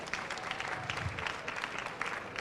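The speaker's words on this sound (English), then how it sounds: "Congratulations. Yeah, big round of applause." Convention audience applauds a third-place culinary cook-off finisher with a steady patter of clapping at moderate distance, a faint voice murmuring underneath.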